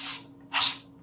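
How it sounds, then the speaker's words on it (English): Oil sprays from leaking AFM solenoids on a GM LT engine in two short hissing bursts, close and fairly loud, with a quiet gap between them. "Now you see, right over on this side, it's spraying oil out."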